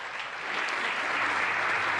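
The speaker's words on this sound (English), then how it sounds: "A round of applause for the 2 ladies." Audience applause at a South African women in science awards ceremony, a steady wash of clapping that holds evenly for about two seconds and swells slightly at the end.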